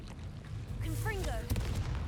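The Confringo blasting spell in Hogwarts Legacy fires with a sharp, loud burst over a steady low rumble, and a short spoken word comes just before the blast.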